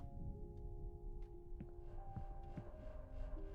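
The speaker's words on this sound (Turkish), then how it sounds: "Buzdolabı çalışıyor." Steady electrical hum of a refrigerator running in the Reminiscence horror video game, with faint tonal drones and soft throbbing pulses over a low, continuous background.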